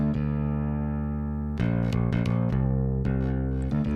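Bass guitar run through a boosting guitar pedal into a bass overdrive for a metal tone, a long sustained low note ringing, then a series of picked, distorted notes with sharp attacks, loud and alone.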